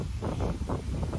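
Wind buffets a microphone outdoors, a loud, close, continuous rumble that swells and dips in uneven gusts.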